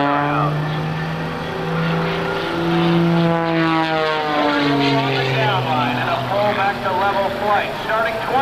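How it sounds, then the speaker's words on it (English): A Sean Tucker aerobatic propeller airplane flies two consecutive hammerhead turnarounds at the 2002 NAS/JRB Willow Grove air show, its engine droning loudly with rising and falling pitch sweeps as it climbs, pivots and dives, while an announcer talks over it. "As Sean completes not one, but two consecutive hammerhead turnarounds."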